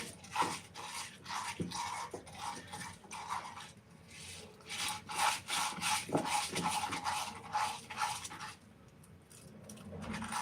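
Raw rice swirled and ground around the inside of a new stone mortar with a pestle, producing close gritty rubbing and scraping in uneven bursts with small knocks.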